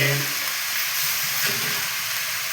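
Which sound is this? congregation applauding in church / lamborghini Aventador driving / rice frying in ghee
rice frying in ghee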